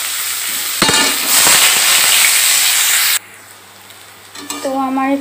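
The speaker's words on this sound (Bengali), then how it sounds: "পেঁয়াজগুলো দিয়ে দিচ্ছি, এগুলো একটু লাল লাল করে ভেজে নেব।" Onions fry in a wok with a loud, steady sizzle and some stirring. The sizzle then stops abruptly, leaving a quiet room and a few brief clinks and tones.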